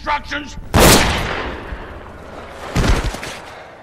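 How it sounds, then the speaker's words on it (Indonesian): Gunshots ring out in a film scene where a son shoots his father in the head: one sharp, loud blast, then a second burst a couple of seconds later, with brief voice-like sounds just before. "menembak sang ayah tepat di bagian kepala"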